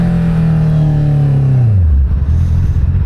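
An inline-4 engine drones loudly and close, then its pitch slides down during a downshift and settles into a lower rumble.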